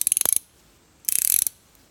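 A GearWrench metric ratcheting wrench clicks in two quick bursts, each a tight run of about ten sharp ratchet ticks, close and crisp with a brief silence between.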